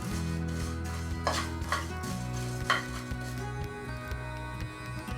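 Fenugreek, coriander and cumin seeds dry roasting in a pan on a low flame, with quiet scraping stirs and soft rattling of seeds over a steady low background hum, no voices.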